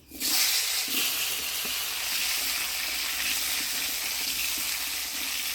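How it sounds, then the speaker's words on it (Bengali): Potatoes stirred through hot oil tempered with nigella seeds in a home kitchen pan, a steady close sizzle running the whole time with faint scraping stir noises and no talking. "আলুটা ফোরনের তেলে নাড়াচাড়া করে নিলাম"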